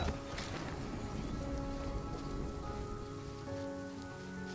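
Steady rain falling in the RuneScape Dragonwilds video game, a dense constant patter of drops hitting surfaces, loud and close, with faint tonal game sounds underneath and no talk.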